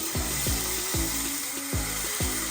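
Hot oil sizzling steadily with a bright hiss as curry leaves and a little water go into a tempering for khaman, while a utensil scrapes in a regular rhythm several times.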